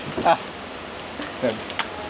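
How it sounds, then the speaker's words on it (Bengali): Heavy rain falls outside as a steady, broadband hiss through the whole stretch, with a few brief louder spatters and faint voices in the background. "বাইরে অলরেডি প্রচন্ড বৃষ্টি"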